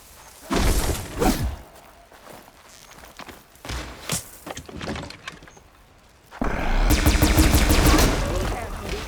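Gunfire in Horizon Forbidden West comes as a few sharp shots early on, followed by a dense, loud sustained volley near the end, with footsteps and other game sounds between.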